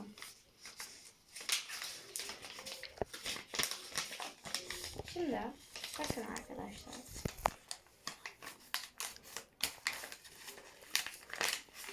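Paper being folded by hand, with repeated crinkling and creasing rustles close to the microphone while someone talks over it.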